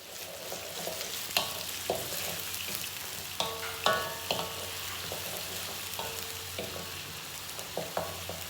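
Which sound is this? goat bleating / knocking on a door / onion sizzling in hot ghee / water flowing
onion sizzling in hot ghee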